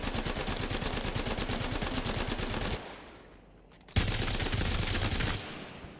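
Havoc energy rifle from Apex Legends firing in rapid bursts of dense, loud gunfire, breaking off into a brief lull before the fire resumes at full rate straight away with no wind-up.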